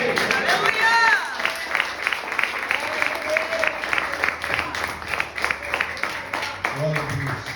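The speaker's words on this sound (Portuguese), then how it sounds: "aplaudindo Jesus." A church congregation applauds during a prayer service, dense continuous clapping at steady loudness throughout, with a voice speaking briefly over it near the end.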